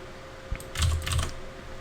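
A short burst of keystrokes on a computer keyboard while writing code, a quick cluster of soft clicks and thuds heard close and alone.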